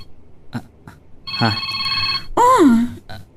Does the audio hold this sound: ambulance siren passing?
no